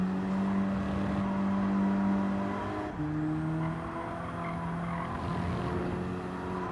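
A car in a racing video game corners with sustained tire squeal over a steady engine drone, a gear change near the middle, and the skid tone shifting pitch as it holds the line.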